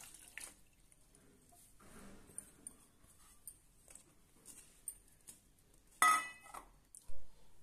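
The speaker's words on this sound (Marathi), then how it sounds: "आता आपण दुसऱ्या बाउलमध्ये एक चाळणी ठेवूया आणि त्यावर हे काढून घेऊया" A metal sieve set on a bowl and sliced potatoes tipped into it to drain, with quiet, scattered clinks and taps and two louder bursts of clatter and running water near the end.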